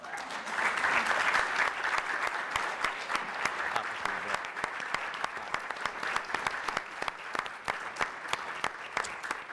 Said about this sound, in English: can I ask you also to stand up and give them a round of applause